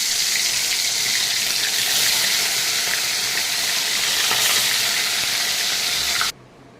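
Fish sizzles steadily in hot oil, a loud, dense hiss that stays even for about six seconds and then cuts off abruptly. No one speaks.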